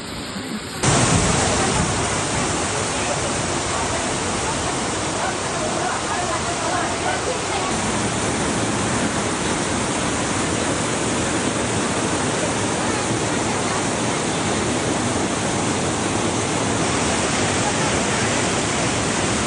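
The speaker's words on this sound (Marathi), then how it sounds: "ढगफुटी सदृश पाऊस झालाय" Heavy cloudburst-like downpour with rushing floodwater during severe monsoon rains in Jalgaon, a loud, steady, unbroken roar of water from start to finish.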